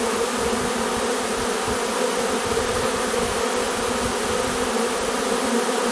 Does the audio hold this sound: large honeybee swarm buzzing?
yes